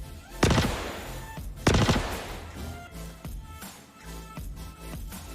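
Two loud bursts of heavy gunfire from a big gun in the space game Star Citizen, about a second apart, followed by fainter scattered shots and rumble.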